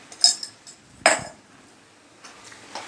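A spoon clinks and scrapes against a pot while coconut powder is stirred into a cooked mixed vegetable curry, two sharp metallic knocks followed by softer scraping.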